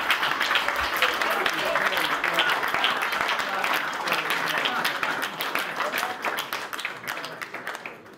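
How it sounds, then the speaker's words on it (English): A seated crowd at a technology hub launch gives a sustained round of applause, dense and close, with voices talking over the clapping before it gradually thins out toward the end. "Round of applause, round of applause."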